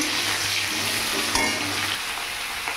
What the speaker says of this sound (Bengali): এদিকে আমার অলরেডি আলু ভাজা হচ্ছে